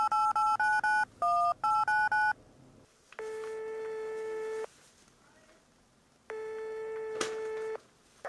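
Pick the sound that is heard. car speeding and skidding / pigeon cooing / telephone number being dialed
telephone number being dialed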